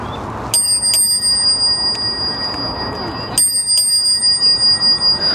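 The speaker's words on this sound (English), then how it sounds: "We'll ring our bell at these nice people" A bicycle bell rings twice on a bayfront bikeway, each time in two quick bright dings, close and clear over outdoor ambience.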